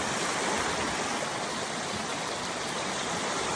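Water flowing in a stream at Synevyr lake in the Carpathians, a steady, close broadband rush and splash that holds evenly from start to finish with no voices.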